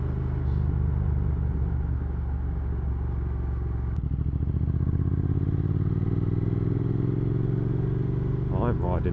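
A Triumph Thruxton R motorcycle being ridden, its steady engine rumble and wind roar continuous and close, with a brief thump midway and a faint rising whine near the end.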